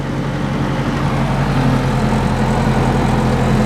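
An engine running and revved up on a vehicle with the emergency brake set, a loud, continuous low rumbling drone that rises slightly, close by and without talk.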